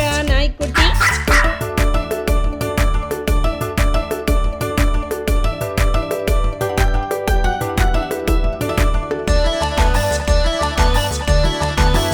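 A puppy barks repeatedly in quick yips inside an upbeat Tamil children's rhyme, the barks mixed with loud rhythmic music and singing.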